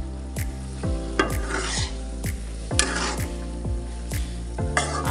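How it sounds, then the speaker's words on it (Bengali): Cumin paste frying in a pan while a utensil stirs and scrapes it, repeated rhythmic scraping strokes about once a second over a soft sizzle, close and alone. "আবার ভালোভাবে মিশিয়ে নিচ্ছি।"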